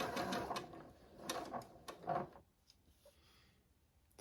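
A sewing machine chain piecing fabric for a Christmas shirt, running slowly in short whirring bursts for about two and a half seconds before falling quiet, close up with faint clicks after.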